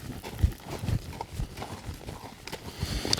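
A ranch horse works through a hindquarter exercise, its hooves clopping in an uneven, shuffling rhythm over soft ground at close range, with faint background noise and no talking.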